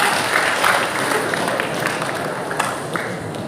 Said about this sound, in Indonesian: Boleh kita beri tepuk tangan bersama-sama?